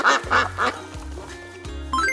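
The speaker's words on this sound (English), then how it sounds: "D is for duck. Duck." Three loud, close duck quacks in quick succession at the start, followed by a sustained tone that steps through low notes and ends in a rising flourish.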